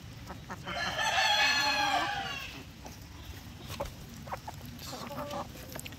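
Asil and shamo chickens cluck and squawk busily together while feeding, a burst of agitated calls followed by scattered clucks and pecking sounds, close by with no talking.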